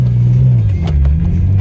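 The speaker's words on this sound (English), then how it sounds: "Hope you've enjoyed my little exhaust drive-by" A Porsche 911 (996) fitted with a Design Tek exhaust rumbles past close by, its deep, throaty engine note swelling and dipping in pitch as it drives by.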